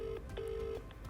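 A telephone rings with a steady electronic tone that sounds in two short bursts separated by a brief gap. It is fairly faint over a low background hum, and no one speaks.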